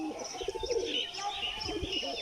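A pigeon coos softly, close by, with chirpy bird sounds and a few light rustles and flutters of wings in the mix.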